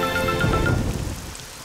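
Cartoon rain pattering steadily on a surface, a broad hiss of drops that fades gradually toward the end, with no talk.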